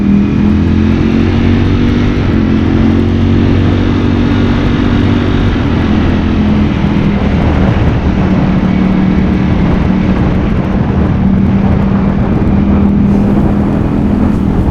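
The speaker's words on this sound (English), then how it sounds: "Acceleration on this bike is just seamless." A 2020 Ducati Streetfighter V4S motorcycle accelerating, a loud, close engine drone that climbs steadily in pitch with gear changes, continuous and dominant with wind noise throughout.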